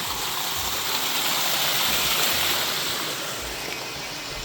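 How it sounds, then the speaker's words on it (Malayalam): Steady rushing of water tumbling over a small fall, a continuous broadband roar close by with no voices. "ചെറിയൊരു വെള്ളച്ചാട്ടം പോലത്തെ സംഭവം ഉണ്ടത് അതിലേ വെള്ളം ഒഴുകി പോണ നോക്കിയേ"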